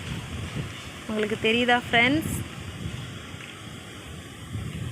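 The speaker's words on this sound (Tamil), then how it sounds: "காற்று பயங்கரமாக அடிக்குதுங்க" Strong, gusty wind sweeps through a village during a violent windstorm, a steady roar of rushing air and microphone buffeting that runs throughout, with someone briefly talking over it.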